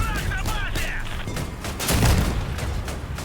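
Repeated cannon fire and explosions from vehicle battles in Crossout, a string of thuds and booms with a heavier low blast near the middle, while a voice talks underneath.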